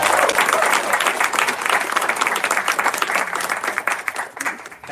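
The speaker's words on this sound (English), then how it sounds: "Again, a round of applause." Wedding guests break into sustained applause at a reception, a dense wash of clapping from a sizable crowd that stays loud before thinning slightly toward the end.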